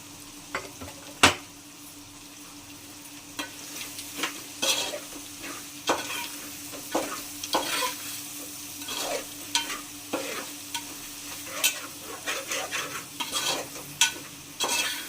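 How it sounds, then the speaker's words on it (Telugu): Goat tripe (boti) frying with salt in a pan, with steady sizzling and frequent spoon scrapes and clinks against the metal, close and fairly quiet. "సాల్ట్ వేసుకొని ఒక 10 నిమిషాలు మగ్గనిద్దాం. మంచిగా బ్రౌన్ కలర్ వచ్చే వరకు మగ్గనిద్దాం."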